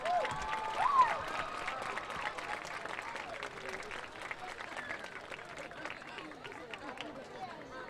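Applause from the crowd at a high school football game between VHS and Washington Township, a broad steady wash of clapping with crowd chatter mixed in, moderately distant, tapering slightly over eight seconds.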